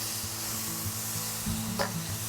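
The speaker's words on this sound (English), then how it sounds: "You also listen for that sizzle, and you can hear a sizzle like that." Chicken sizzling loudly in a hot pan, a steady crackling hiss with a few soft scraping stirs, close up and without talking.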